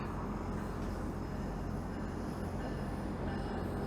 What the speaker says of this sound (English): There goes the GO train.